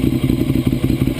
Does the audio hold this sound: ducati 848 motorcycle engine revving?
yes